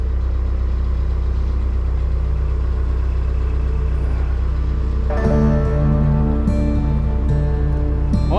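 Narrowboat engine running steadily while travelling, a constant low, close rumble with a throbbing drone that thickens and grows busier with added tones partway through, no talk.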